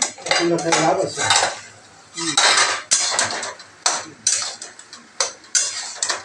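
Bottle gourd ghonto (lau ghonto) with bori is stirred in a cooking pot, giving a series of clattering utensil scrapes and knocks in bursts, fairly close and loud, with no talking.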